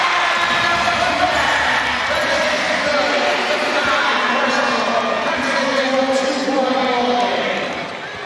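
A sizable home crowd at a women's basketball play-off final between Sevenoaks Suns and Leicester Riders cheers and chants for defense, a loud continuous roar beneath a commentator talking.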